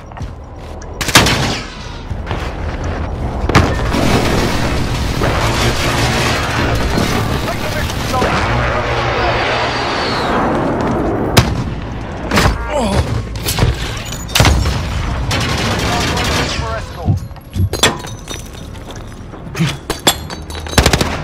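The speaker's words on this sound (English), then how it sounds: "Enemy precision airstrike." Repeated explosions and gunfire from an enemy precision airstrike in Call of Duty: Modern Warfare ring out loud and near, with booming impacts and bursts of automatic fire filling the whole stretch alongside shouted game voices.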